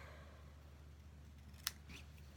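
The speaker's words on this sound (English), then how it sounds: "I'm going to take some scissors and cut it at an angle" A single crisp snip of scissors cutting paper at an angle, close and sharp, rising briefly out of a quiet room background.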